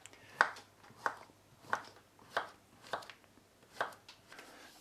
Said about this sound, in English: You cut this vegetable in thin slices, okay?